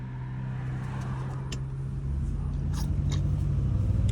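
Loud cars passing outside on the road: a steady low traffic rumble that swells in the second half, with a few faint clicks over it and no talking.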